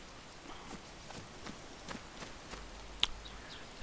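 Rain falls in the survival video game DayZ, a faint, steady patter with occasional soft thumps like footsteps and one sharp click near the end.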